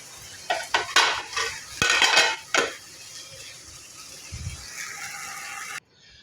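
Leafy sour greens being stirred in a pan, with a spoon scraping and clinking against metal in several sharp bursts over a faint sizzle, then quieter rustling before the sound cuts off.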